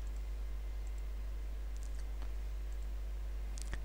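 Computer mouse clicks while printing a school enrollment form online, a few faint, sparse clicks over a steady background hiss.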